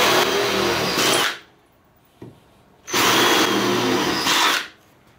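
Power drill boring holes with a 10.5 mm (13/32 in) bit during assembly of a Ski-Doo 1+1 seat system, two loud sustained bursts of whirring separated by a short pause, no talking.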